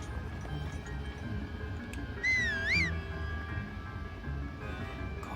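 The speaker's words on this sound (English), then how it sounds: "we're whistling for him" A brief rising-and-falling whistle in the video game Breath of the Wild sounds once, about half a second long, clear over the game's background ambience.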